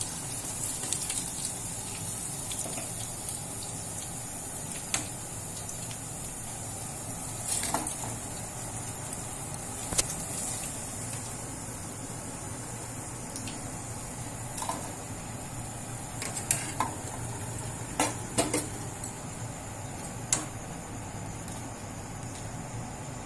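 Quiet, continuous sizzling of chicken pieces frying in hot oil, with occasional soft clicks and taps scattered across the stretch.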